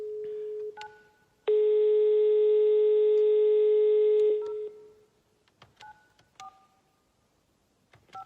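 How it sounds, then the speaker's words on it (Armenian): Touch-tone keypad beeps dial a telephone number, followed by a long steady tone of about three seconds, then several more short dialing beeps, clear and close with no talking. "ես կոնկրետ մարդու եմ զանգում"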